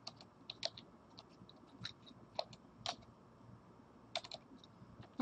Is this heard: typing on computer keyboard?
yes